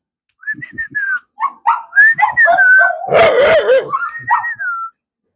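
Dogs whine, yip and bark in a lively string of vocal sounds, close and fairly loud, with squeaky whimpers mixed between the barks.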